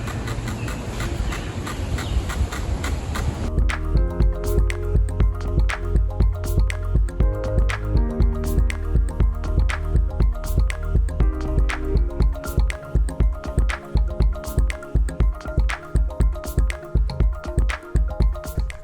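Trees creaking in the wind at Grand River Park, heard as repeated creaks and knocks like old floorboards or a haunted-house door, steady and fairly close over a continuous low rumble.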